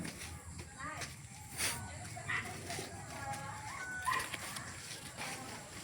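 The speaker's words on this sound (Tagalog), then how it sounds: "Ang aming malaking aso." A large dog makes brief whimpering and yipping sounds at a home garden, mixed with people talking and faint clucking chickens nearby.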